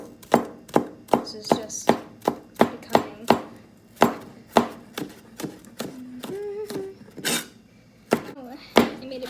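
Knife chopping ingredients on a cutting board while cooking slow cooker beef soup, a fast run of sharp, close thuds in bursts, with brief talk and a few clinks in between.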